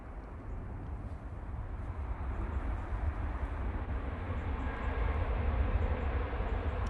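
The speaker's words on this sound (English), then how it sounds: "British Airways just coming in." A British Airways airliner on approach to land at Manchester Airport, a low distant engine roar that swells gradually louder across the whole stretch.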